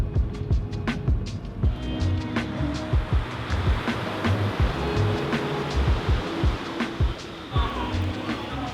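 Waves wash steadily onto a beach under a broad hiss of surf, with scattered distant activity and faint background rumble.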